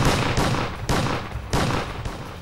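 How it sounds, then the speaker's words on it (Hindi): Revolver shots fired in an office during a violent quarrel, four sharp loud blasts in an irregular sequence, each ringing out with a decaying tail before the next. "सनी और विजयपाल परमजीत और उसके दोस्तों पर ताबड़तोड़ गोलियां चलानी शुरू कर देते हैं।"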